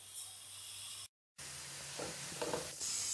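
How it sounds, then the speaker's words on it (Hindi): Coriander, fennel and cumin roast in a hot pan with a crackling, hissing sizzle that briefly cuts out, then resumes with scattered stirring sounds. "इन सब चीजों को भी हम रोस्ट कर लेंगे"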